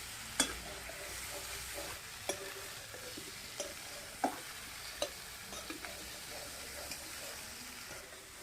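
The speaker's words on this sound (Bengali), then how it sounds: "তরকারিটা আমার কষানো হয়ে গেছে" Cauliflower and potato curry frying in a pan, with faint, steady sizzle under several sharp scraping knocks of a spoon stirring through it.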